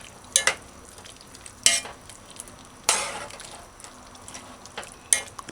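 Onions go into a pot for a curried veggie chunk dish, with a soft sizzle underneath and a few separate sharp stirring clanks and scrapes spaced about a second apart. The sound is close, with no talking.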